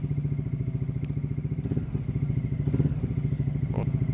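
A motorcycle engine fitted with a freshly tuned Shift Pro ECU runs close up with a steady, rapid pulsing idle and a few light clatters and thumps over about four seconds, with no talk.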